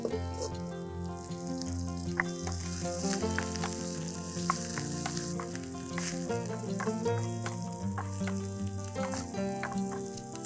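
Onion tempering sizzles and crackles in hot oil in a wok for dal, a continuous close frying hiss with stirring, while instrumental music plays over it.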